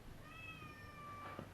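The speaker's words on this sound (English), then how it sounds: "Shut up, cat." A cat gives one drawn-out meow lasting about a second, rather faint over a steady outdoor background hiss.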